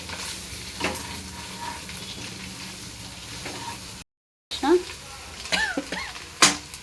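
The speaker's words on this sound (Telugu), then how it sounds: "1 స్పూన్ ధనియాల పొడి వేసిన కలుపుతున్నా." Coriander powder stirred into sizzling biryani masala in a pan, a low steady frying hiss with scraping and clinks of a spoon against the pot, close by, with a voice heard near the end.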